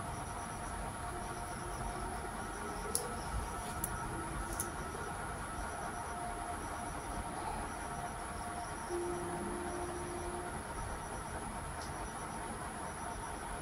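Dried shrimp fry in a pan with a faint, steady sizzling hiss. A few light clinks come from stirring, and no one speaks.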